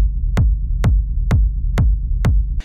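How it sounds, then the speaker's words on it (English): A techno sub-bass rumble layered with a gritty friction rumble, struck as five evenly spaced heavy pulses over a sustained low drone, loud and alone. "on top of that we have this kind of a bit, I would say, friction rumble"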